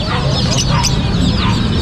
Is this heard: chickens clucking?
yes